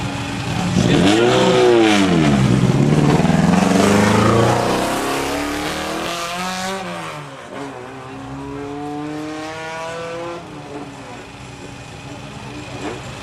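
A 1970s rally car with a 1296 cc engine, restored and lightly tuned, accelerating hard at a historic hill climb, loud and close with rising revs and gear changes, fading off as it climbs away.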